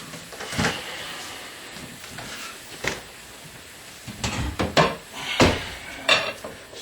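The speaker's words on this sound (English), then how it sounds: "Just put a lid on it." A lid goes onto a pot of Boston chili with a few scattered clanks and metallic knocks, separated by quiet gaps, with no speech.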